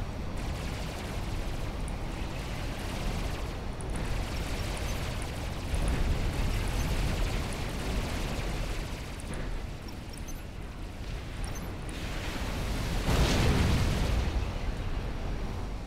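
Long-range missiles strike in the strategy game Supreme Commander: Forged Alliance, a continuous rumbling barrage of distant explosions with a louder burst near the end, no voices.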